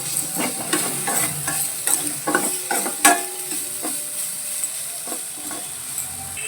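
Vegetables stirred in a hot pan with salt and Maggi masala, a steady sizzle under repeated scraping and clattering of the spoon against the pan, close and fairly loud.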